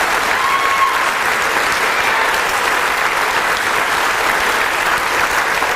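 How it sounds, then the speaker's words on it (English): A large audience at an award event claps loudly and steadily, a dense unbroken wash of applause filling the whole room from start to finish. "she deserves a round of applause wherever she is in here"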